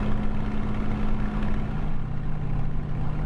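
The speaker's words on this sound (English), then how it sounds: "Again, a lovely throaty purr from that Merlin engine now." Steady, throaty drone of a Spitfire Mk IX's Merlin engine in Microsoft Flight Simulator, a continuous low rumbling purr at reduced RPM with no talk over it.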